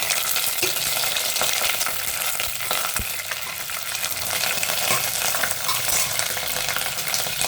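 Whole spices sizzle loudly in hot oil in a pan for a fresh field bean and mint pulao, with a dense, continuous crackle and a few sharp pops and stirring knocks, and no talking.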